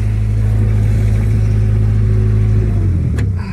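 An airport belt loader's engine runs at a steady, loud idle, a deep continuous rumble close by that drops away abruptly near the end as it is shut off.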